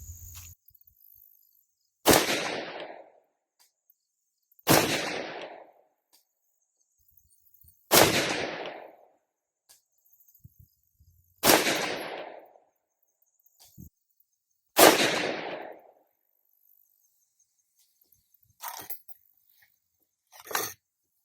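A 6.5 Grendel rifle fires 123-grain SST handloads of 27.1 grains of H4895 at a longer overall length. Five sharp, loud reports come about three seconds apart, each with a short decaying tail, followed by two fainter cracks near the end.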